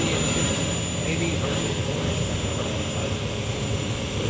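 A large Bushmaster RC airplane, about 140 inches, flies past at a big radio-control airshow, its engine a loud, steady drone that holds throughout, with crowd noise and talk underneath.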